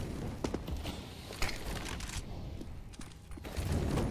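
Scattered gunfire pops faintly in a CS:GO professional match, a few quick shots and short bursts spread over a low, steady background of game ambience.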